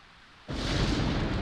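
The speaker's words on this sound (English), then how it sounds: "the direction that lightning struck just now" Lightning striking in the Dragon Quest X video game: after a brief quiet moment, a sudden loud, broad thunder crash rolls in and keeps rumbling steadily to the end.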